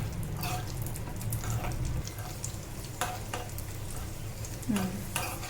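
Raisins roasting in a hot pan for payasam, a steady close sizzle with occasional stirring scrapes and clinks of a spoon, continuous through the whole stretch with no talking.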